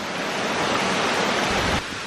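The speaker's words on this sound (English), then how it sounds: "They have turned these stairs into a river." Water rushes down a stone staircase turned into a stream at Kuang Si waterfall in Laos, a loud, steady, close roar that drops slightly in level near the end.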